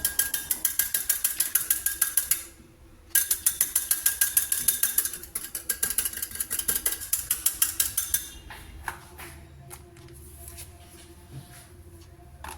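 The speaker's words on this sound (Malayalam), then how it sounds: "ഇനി നമുക്ക് മുട്ടയുടെ മഞ്ഞ ചെറുതായി ഒന്ന് ബീറ്റ് ചെയ്ത് മാറ്റി വയ്ക്കാം" Egg yolks beaten in a bowl for a pudding, a fast run of rhythmic clicking whisk strokes against the bowl, close and steady, pausing briefly near the third second and fading to quieter scattered taps after about eight seconds.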